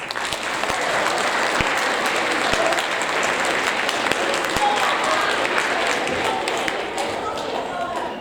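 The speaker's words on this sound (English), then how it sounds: "give them a round of applause" A school audience applauds teachers and staff at a seventh grade awards event, steady dense clapping from a crowd that holds an even level throughout without a break.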